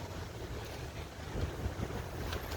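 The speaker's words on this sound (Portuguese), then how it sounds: "Achei que ia ser um dia mais aberto e tá uma ventania aqui" Strong wind blowing outdoors on a cold, overcast day, a continuous low roar buffeting the microphone with gusts that swell midway through, no voices.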